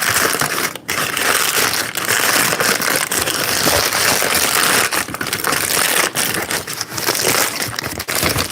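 Something is crumpled into a ball, giving a loud, close, continuous crackling and crinkling that runs the whole time with only brief dips and no talking.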